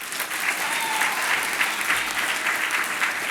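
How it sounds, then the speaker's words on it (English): A big round of audience applause at an inauguration ceremony for a kid governor-elect, dense and even clapping from a large crowd, sustained at a steady level with no one speaking. "Let's give them all one more big round of applause."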